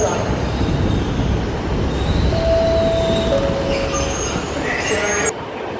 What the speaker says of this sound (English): We've got a 390 Pendolino coming in now